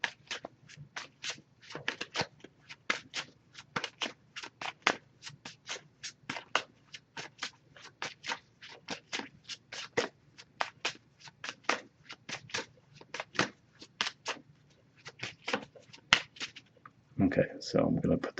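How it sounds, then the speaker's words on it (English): Someone close by shuffles and cuts a deck of oracle cards, making a long run of crisp, uneven taps and riffles that end in a denser rustling burst. "we'll just cut the deck, pull a card that way"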